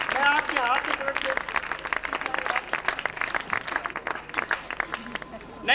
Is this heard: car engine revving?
no